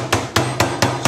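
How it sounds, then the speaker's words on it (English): A meat tenderizer hammer pounds chicken breast for pan-fried crumb-coated chicken. Five heavy, evenly spaced thuds land close by with no talking. "I'm going to use this hammer, this meat hammer, meat tenderizer"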